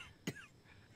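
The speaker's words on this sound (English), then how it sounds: "As we hear the cough." One short, faint cough from a scene in the TV drama Better Call Saul, a brief burst over a quiet room tone.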